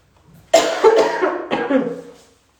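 A few harsh, close coughs from one person in a short fit, each burst trailing off, with a faint breathy lead-in.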